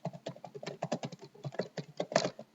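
Rapid typing on a computer keyboard, close and clear, a quick irregular patter of key clicks entering a college name.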